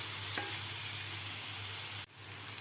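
Raw green mango pieces and onions sautéing in a pan for a spicy gram-flour pitla, giving a steady frying sizzle with a soft stir scrape early on and a brief drop in the sound near the end.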